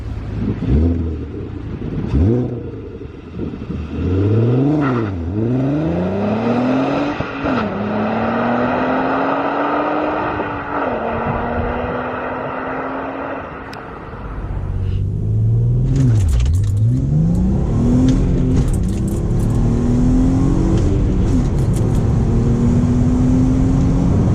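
A Volkswagen Golf Mk4 R32 engine roars through repeated hard accelerations, pitch sweeping up through gears, loud and close from inside the car.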